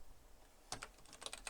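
Keys on a computer keyboard tapped in a short burst of quick, close clicks after a moment of quiet, while text is entered in a code editor.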